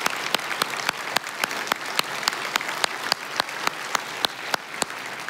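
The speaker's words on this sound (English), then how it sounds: "Let's give them a round of applause." Applause from an audience honoring city council members at a State of the City address, steady and fairly loud with a few sharper individual claps standing out, no talk over it.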